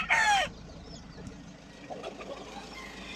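A rooster crows loudly and briefly at the start, followed by faint clucking and scattered bird sounds from roosters and hens in a quiet farmyard.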